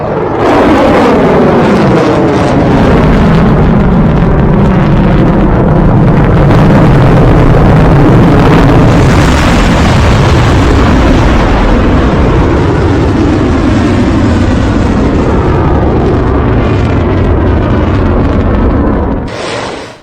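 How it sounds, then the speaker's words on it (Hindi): Iranian ballistic missiles striking Israel, a continuous loud roar of rumbling blasts and engine-like thunder that swells and persists for about twenty seconds, with no voices over it. "ये सारी मिसाइलें जाकर इजराइल में गिर रही हैं, इजराइल में हिट कर रही हैं।"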